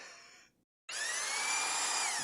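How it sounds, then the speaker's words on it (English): A power drill bores into a stone wall outside a house with a loud, steady high whine that cuts out briefly and then resumes close by. "They're drilling in wherever they can, and oh god, that includes the stone wall."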